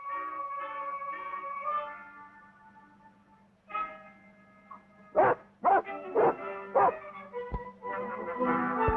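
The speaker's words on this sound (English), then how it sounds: "Don't bark." Dog barking in a 1947 Rin Tin Tin film: several sharp, fairly close barks in an irregular run that follow whining and yelping, over a steady background hum, with no one talking.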